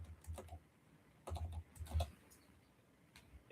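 Keys on a computer keyboard clatter in short irregular bursts of typing, close and fairly quiet, with pauses between clusters of keystrokes and no voices.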